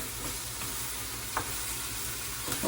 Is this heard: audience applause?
no